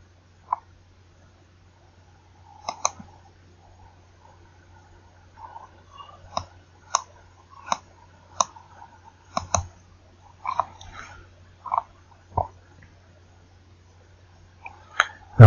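A computer mouse clicks while navigating a website, with sharp isolated clicks spaced irregularly over a low steady hum, close and clear with no talk.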